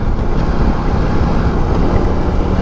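Norden 901 motorcycle downshifting through the gears with a quick shifter, a steady loud engine drone mixed with heavy wind rush over the whole stretch, with no separate shift blips standing out.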